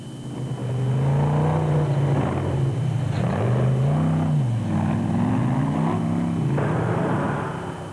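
Ford Ranger off-road race truck engine at a 2006 off-road race, a loud sustained roar with rising and falling pitch sweeps as the truck revs and shifts, steady throughout with no talking.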